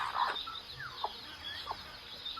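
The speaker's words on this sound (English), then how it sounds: "There are birds that call out" Soft clucking calls from fowl, a few short notes spaced apart, fairly faint against a quiet outdoor background.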